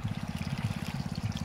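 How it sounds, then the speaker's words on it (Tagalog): Water trickles and splashes steadily onto the base of a lakatan banana plant during field irrigation, a close, continuous pulsing flow with no voices. "nagpapatubig na kami dito sa ating lakatan para makapagdilig na tayo"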